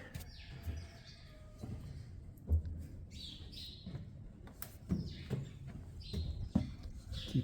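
Small birds chirping inside a shed, scattered brief tweets and squawks over rustling and knocking, fairly close and intermittent.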